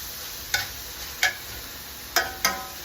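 A thin steak browns in a pan over a faint frying hiss, with four sharp spatula scrapes and clicks as it is moved around, close and distinct.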